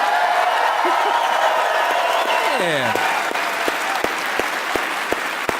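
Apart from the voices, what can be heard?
audience applause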